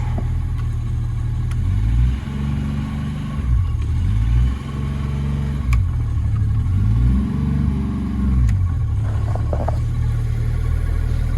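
A Tohatsu MD50B2 50hp outboard engine rumbles at idle around 800 rpm, then revs up and falls back in repeated swells, loud and close with no voices.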